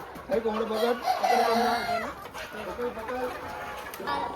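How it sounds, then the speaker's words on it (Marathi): Roosters at a crowded village fair cluck and call loudly in repeated bursts, with a crowing note among them, while people talk and shout close by. "कोंबडे"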